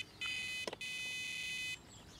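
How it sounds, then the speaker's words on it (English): An electronic bite alarm shrieks as a fish takes the line at a carp fishing lake. It gives a loud, continuous high tone that breaks briefly after a short burst, resumes for about a second, then cuts off into quiet outdoor ambience. "Turn that alarm off a little bit."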